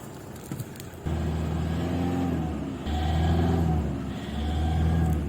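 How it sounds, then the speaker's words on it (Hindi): A Toyota Hilux 2700cc engine, just started after a fan belt change, settles into a steady, close idle with a low drone that swells slightly a couple of times. "गाड़ी हमारी स्टार्ट हो गई है। बैनिंग के अंदर कोई साउंड नहीं है, इंजन का अपना साउंड है"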